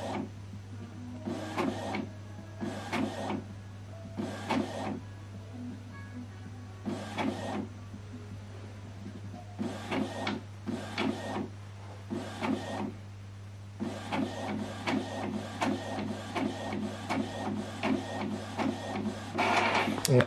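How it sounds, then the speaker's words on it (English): An Epson printer prints a colour document, its print head shuttling back and forth in a steady rhythm of short mechanical bursts with brief pauses between passes. A constant low motor hum runs underneath, and the sound stays fairly close and moderately loud. "The reason it's taking a bit time is because we are printing colored"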